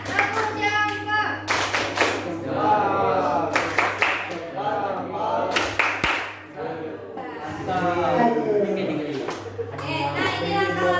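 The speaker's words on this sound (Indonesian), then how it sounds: "yuk tepuk jempol ya teman-temannya" A class of children performs the 'tepuk jempol' clapping routine, with bursts of rhythmic hand claps alternating with the children chanting and a teacher's voice, over a low steady hum.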